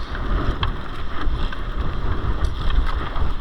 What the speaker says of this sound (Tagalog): Ngayon lakas ng hangin kasi